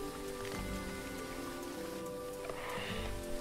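Heavy monsoon rain falls in the village game Virtual Villagers 4, a steady soft patter of drops on surfaces that stays faint and even throughout, with no voices.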